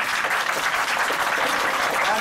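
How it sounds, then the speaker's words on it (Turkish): Dense, continuous applause from a crowd at an AK Party candidacy announcement in Erzincan, Turkey, steady and fairly loud throughout. "kendinizi çok kuvvetli şekilde alkışlayabilirsiniz"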